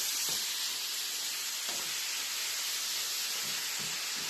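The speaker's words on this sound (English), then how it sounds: "As you can see, the mince starting to brown a little." Minced meat for chilli con carne sizzles and browns in a pan, a steady close hiss of frying with a few soft stirring scrapes and no voices.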